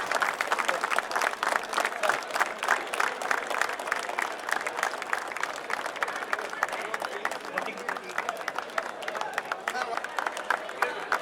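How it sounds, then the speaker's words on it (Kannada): Crowd at a government employees' sports meet in Raichur clapping loudly, a continuous rhythmic burst of many hands sustained for over ten seconds. "ಜೋರಾದ ಚಪ್ಪಾಳೆ"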